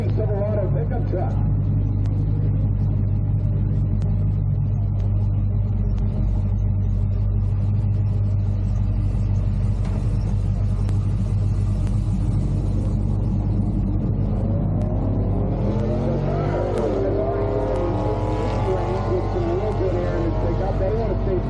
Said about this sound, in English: driving the 2007 model Chevy Silverado pickup truck.